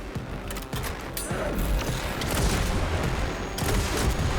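Rockets firing in the video game Atomic Heart, a loud mechanical barrage of rapid launches and thuds with clattering, ratchet-like bursts running throughout, no talk over it.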